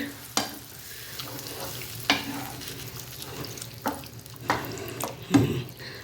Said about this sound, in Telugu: దాంతో హైలో పెట్టి అలా కలుపుతూ ఉంటారండి.